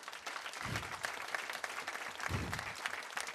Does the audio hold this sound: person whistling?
no